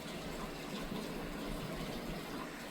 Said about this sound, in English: water is splashing everywhere